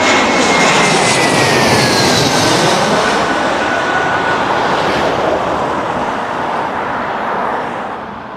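Fixed-wing airplane passing overhead near a London airport, a loud sustained engine roar with a whining tone that slowly fades toward the end.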